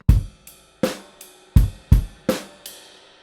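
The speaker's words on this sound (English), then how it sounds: "so that groove sounds like this, just playing it on the ride" A drum kit plays a simple rock groove in a grade 3 lesson, with ride cymbal eighths over punchy bass and snare hits in a steady close pattern, with no voices.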